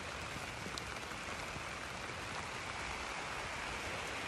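Steady rain falls on a farm during a stormy, flooding day, a dense, loud, unbroken hiss of water that lasts the whole time with no voices.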